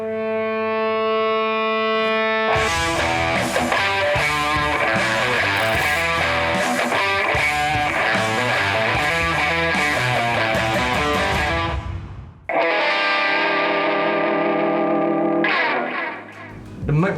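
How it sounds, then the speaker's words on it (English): Guitar feedback tone swells in steadily, then a loud, distorted, effects-heavy guitar intro for Peter McKinnon's videos surges in with siren-like sweeps, drops out abruptly and returns as the sustained feedback drone. "It's like a feedback of the guitar, and it's just like bringing in the volume of the guitar."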